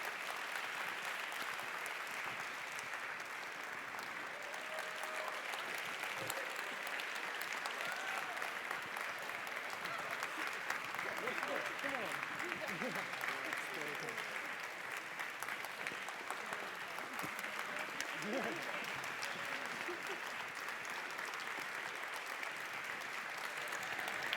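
A conference audience gives a long, sustained round of applause for the event staff at a closing session, many hands clapping steadily in a large hall, moderately loud and continuous, with a few faint voices and calls mixed in.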